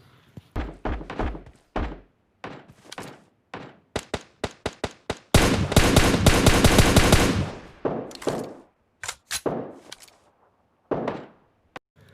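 M4 rifle fire in a PUBG match on the Livik map comes as sharp bursts of shots, single cracks and quick volleys with a longer sustained burst in the middle, loud and close with no talk.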